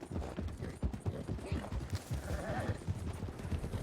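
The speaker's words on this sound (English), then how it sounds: "What kind of horse you got there? It's an Arabian." Arabian horse hooves clip-clop in the RedM video game, a steady rhythmic walking beat close by, with people talking over it.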